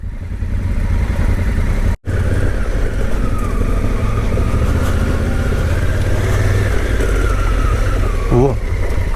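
Honda Africa Twin motorcycle riding off-road on a mountain road, its engine a steady loud drone throughout with a brief dropout near the start.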